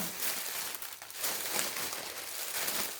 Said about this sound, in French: le papier qui fait du bruit